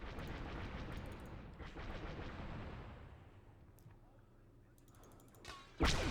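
Gunfire at a droid in the Star Wars: Galaxy at War mod, a rumbling battle with bursts of shots and booms, quieter in the middle, then a sharp loud blast near the end.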